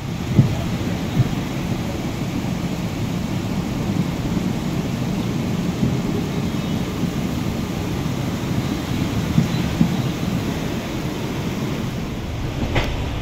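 Heavy rain pours down in Navi Mumbai, a loud, steady low rumbling wash that continues without a break, with a dull thunder-like roar underneath and no talking.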